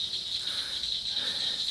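Steady high-pitched trilling chorus from frogs at night around a pond, continuous and dense, droning evenly at moderate distance with no talk over it.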